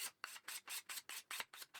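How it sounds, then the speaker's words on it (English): Tasmanian Blackwood chair timber sanded by hand after varnish removal, a close, steady back-and-forth rasping in about eight even strokes, heard alone. "I removed the bulk of the varnish with a scraper, then finished it off with loads of sanding by hand."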